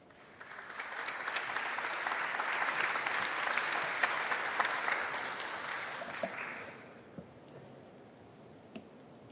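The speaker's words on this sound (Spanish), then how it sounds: "en el cual los recibimos también con fuertes aplausos." An audience bursts into loud, sustained applause at an evening talk on constitutional, tax and economic topics, the clapping swelling quickly, holding steady for about six seconds, then fading to a few scattered claps.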